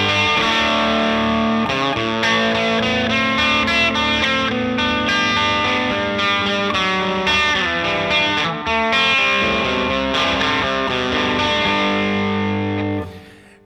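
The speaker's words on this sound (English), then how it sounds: "here's the Twin Reverb on 5 with a humbucker" Electric guitar with a humbucker through a Fender Twin Reverb tube amp set on 5, thick, slightly mushy overdriven breakup, chords strummed and sustained steadily and loudly throughout with no talking.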